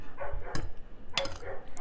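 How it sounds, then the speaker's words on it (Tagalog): A dog barks at home in a few quick, separate bursts, moderately faint, with quiet gaps between them. "Tapos ito guys, may aso. May aso sa bahay."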